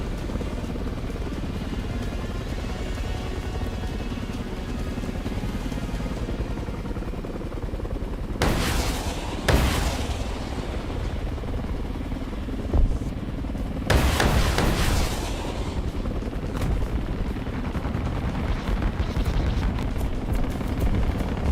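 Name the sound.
gunfire and explosions in the video game War Thunder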